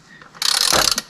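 A ratchet wrench loosening the oil drain plug on a 2021 Toyota Avalon TRD: a short, loud, close run of rapid metallic ratcheting clicks, lasting well under a second.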